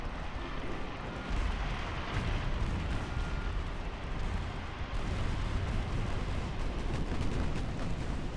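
Naval artillery thundering in a fleet battle in Ultimate Admiral: Dreadnoughts, with 1890-era warship hulls: dense, overlapping heavy gunfire and booming salvos rolling on steadily at moderate distance.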